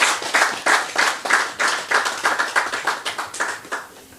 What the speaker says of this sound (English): A special round of applause for green lava.